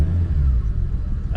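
Turbocharged Lexus IS300 engine revving in neutral during a repair, a loud, close, continuous low rumble that swells and holds for the whole moment.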